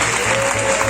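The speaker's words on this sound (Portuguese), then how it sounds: "Aplausos." An audience at a live late-night talk show applauds in a dense, steady wash of clapping for a brief moment.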